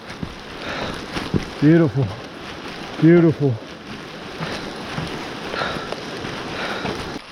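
Steady rain hisses on a wet, rocky mountain trail up Mt. LeConte near streams, a constant wash of sound with someone speaking briefly over it.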